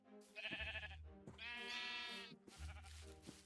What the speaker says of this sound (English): New cows.